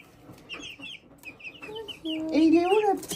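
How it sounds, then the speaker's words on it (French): A hen clucks nearby in short rising and falling calls that grow louder toward the end, with quieter bird chirps and some talk behind. "Ça sera une poule, tu vois."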